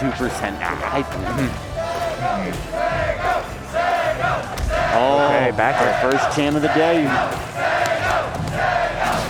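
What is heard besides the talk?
crowd cheering at Rivals of Aether tournament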